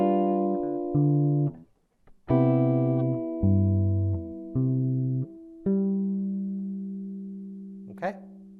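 Fingerstyle guitar links two measures of a tune, a string of plucked chords with bass notes and a brief gap early on, ending on a long ringing chord, close and solo.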